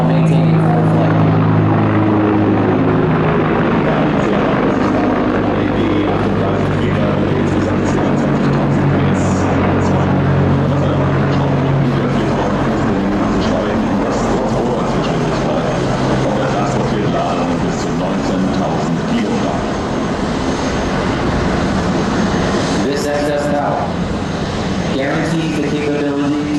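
A Sikorsky CH-53K King Stallion heavy helicopter flying a display at an air show: a loud continuous rotor and turbine roar runs throughout, with a commentator talking over it.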